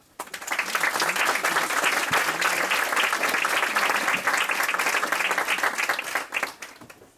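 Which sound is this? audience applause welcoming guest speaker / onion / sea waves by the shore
audience applause welcoming guest speaker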